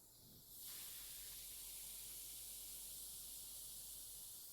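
GSI Creos Mr Hobby Procon Boy PS-289 Platinum 0.3 mm airbrush spraying at about 30 to 40 psi, opening with a faint hiss that jumps after half a second to a loud, steady, close airy rush.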